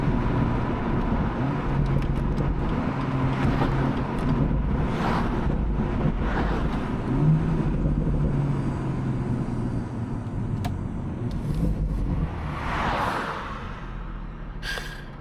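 A BMW M240i convertible accelerates with the top up, a steady engine drone under heavy road and wind roar from inside the cabin, rising in brief swells as it gathers speed.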